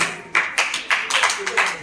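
A classroom claps for a student: a few short, sharp bursts of hand clapping in an uneven rhythm, fairly close, with no voices over them.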